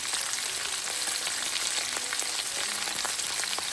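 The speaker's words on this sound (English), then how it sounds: "then I will pan fry my veggies" Diced zucchini, squash and sliced onions with seasoning sizzle steadily in a hot pan, a dense continuous crackle with scattered pops throughout, close and fairly loud, no voices.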